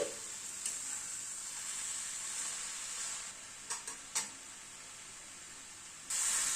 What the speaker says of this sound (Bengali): গাজরটা কিন্তু ভাজতে ভাজতে অনেকটাই কমে এসছে